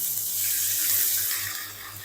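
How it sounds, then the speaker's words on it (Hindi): Water pours steadily into a pan of onions fried golden for a khandwiyon ka salan, a smooth continuous splashing rush that stays close and even throughout. "तो अब हम इसके अंदर ऐड कर देंगे पानी।"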